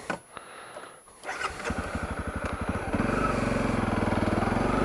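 Honda CRF250L motorcycle engine starting up and settling into a steady, loud running drone with regular firing pulses as the rider sets off along a hollow trail.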